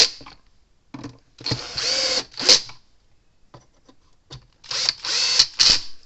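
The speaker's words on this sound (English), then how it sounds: "let's screw this back together first" A Zareba Fi-Shock fence charger case being screwed back together with a power driver, several short whirring bursts separated by pauses, close and clear.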